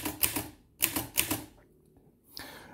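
Keys struck on an Underwood Universal manual typewriter, a few sharp mechanical clacks in quick pairs with short pauses between, close and clear with no talk.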